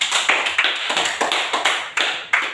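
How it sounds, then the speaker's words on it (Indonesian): Pupils in a classroom clap their hands together during a school lesson, producing a sparse, uneven patter of sharp claps that rises and fades in short bursts over a couple of seconds. "mari kita semua tepuk tangan dulu"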